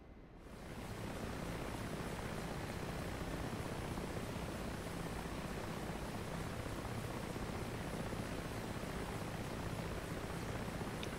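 Mi-8 helicopter engine and rotor in DCS World over the Channel map, a dense, steady rumbling roar that swells in within the first second and then holds constant and loud, with no voices.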